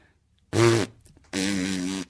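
A voice imitates a fart noise in two buzzing, blubbery bursts, the second longer and steadier, close and loud with a short pause between.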